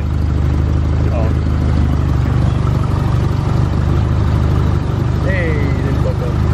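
A Nissan S13 fitted with a new exhaust and radiator idles steadily, a loud, continuous low engine rumble running throughout, with people talking over it.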